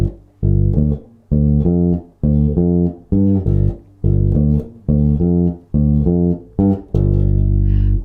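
A slow, shuffling blues line on bass guitar, deep notes plucked two per beat in a loping swung groove, played alone and clearly up close.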